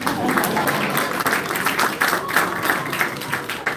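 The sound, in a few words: audience clapping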